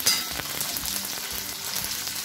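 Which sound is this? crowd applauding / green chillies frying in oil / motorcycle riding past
green chillies frying in oil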